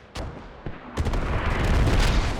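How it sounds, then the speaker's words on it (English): Heavy mortar barrage in the military shooter Squad: a sharp blast opens, then a second crack, then a loud rolling rumble of repeated impacts that builds and holds, with no talk over it. "we see that heavy mortar barrage"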